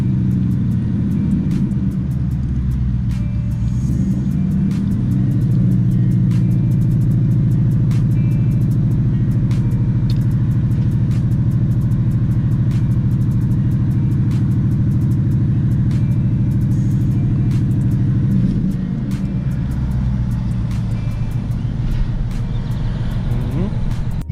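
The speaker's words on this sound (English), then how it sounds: "So we'll do a couple of short revs. just to get the gas flowing through the system." A Ford Mustang GT engine running 93 octane with a flex tune rumbles steadily up close, rising in a couple of short revs before settling back to idle.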